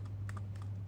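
Quick keystrokes on a computer keyboard while entering a web address, several light clicks in a short burst close to the microphone over a low steady hum.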